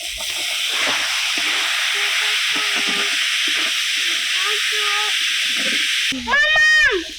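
Chicken meat frying in a pan with chopped onion, coriander leaves and tomato gives a loud, steady sizzle and hiss. Brief voices speak beneath it, and a short high voice rises near the end.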